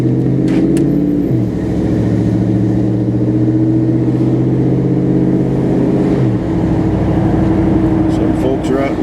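A car driving on a road during a drive in April 2020, heard as a steady low engine drone with the pitch shifting near the start and again later, like gear changes, continuing throughout.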